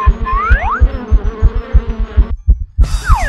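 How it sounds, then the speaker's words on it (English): Bees buzz in the Polterguy haunting video game, a rising, droning insect whine over a fast, thumping heartbeat-like pulse. The buzz cuts out briefly and then returns. "I hope you like bees"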